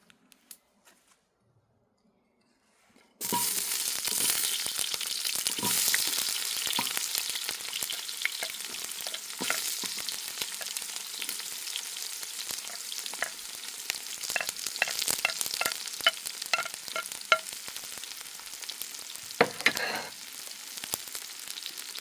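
Onion and garlic hit a hot pan that already holds cooked carrots for a New Zealand lamb caldereta, bursting into loud continuous sizzling after a near-silent start, with stirring scrapes and clatters throughout.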